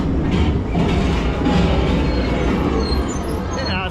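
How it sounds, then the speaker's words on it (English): A train-passing sound effect plays at the Alton Towers theme park on opening day, a loud, continuous rumbling clatter close by, with faint crowd noise mixed in. "It has a sound effect for when the train goes past."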